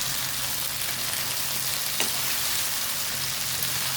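Bitter gourd (ampalaya) and chicken fry together in a pan with a steady, close, even sizzle and a low hum underneath.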